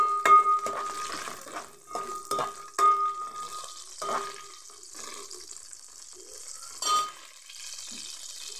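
Ridge gourd pieces frying in oil in a pan, with a soft sizzle beneath sharp metallic clanks and scrapes of a spoon, close and fairly quiet.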